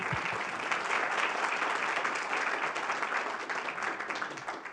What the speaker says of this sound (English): We're going to clap,